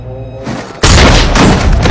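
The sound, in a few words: gunshot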